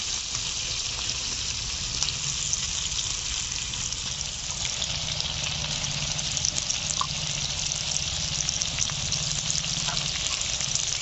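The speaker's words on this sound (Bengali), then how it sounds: "এখন লোটে মাছগুলোকে মশলার উপরে দিয়ে দিচ্ছি।" Lote fish laid onto a fried spice paste in a hot pan for a masala curry, giving a loud, steady, close sizzle that hisses on without a break.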